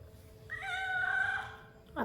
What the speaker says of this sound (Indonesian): Dan cerewet banget nih satu kucing nih.